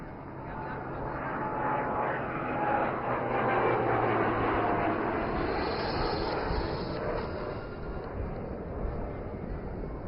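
A maritime patrol aircraft flies past at an air show, a steady broad engine roar filling the whole stretch, swelling slightly in the middle, with a public-address voice talking over it.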